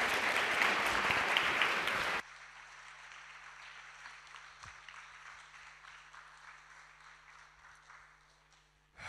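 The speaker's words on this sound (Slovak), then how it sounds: "ešte raz poprosím vás o jeden veľký potlesk pre Uršulu Kovalík a Simonu Salátovú" Dense crowd applause for two performers bursts loud and full for about two seconds, then drops abruptly to a thinner, quieter patter of scattered clapping that gradually fades away.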